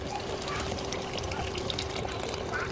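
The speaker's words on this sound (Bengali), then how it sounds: "এখন এটার মধ্যে গরম পানি দিয়ে দেবো" Hot water poured into a pot of fried rice for a pangas fish biryani, a steady close splashing pour that runs without a break and with no talk.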